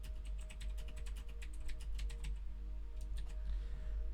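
A close computer keyboard is typed on in quick bursts of sharp clicks, with a short pause near the end before a few more keystrokes; no one speaks.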